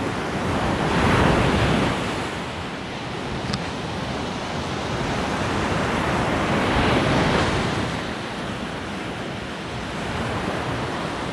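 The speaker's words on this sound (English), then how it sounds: "Even beautiful clear days can be very, very breezy on the beach." Steady roar of surf and gusting wind on Myrtle Beach on a breezy, clear summer day, with broad rushing waves swelling and easing and wind buffeting the microphone throughout.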